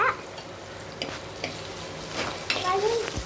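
Green chilies sauté in a pan for sambar, a faint steady sizzle broken by occasional clinks of stirring, with a brief tonal voice-like sound near the end.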